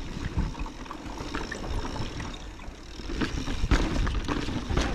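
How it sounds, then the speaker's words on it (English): A mountain bike rattles and crunches over rocks on a Sedona trail, a steady loud rough clatter of tires and frame throughout. "I love the sound of this bike on the rocks."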